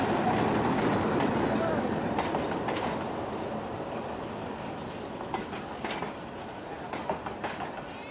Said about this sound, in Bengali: আমরা এই লোকাল ট্রেনে এখন উঠবো।